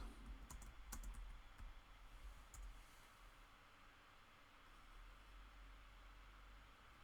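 Typing on a computer keyboard while entering a search into Google: a quick, uneven burst of close keystroke clicks in the first few seconds, then a soft, steady background hiss with only a few stray taps.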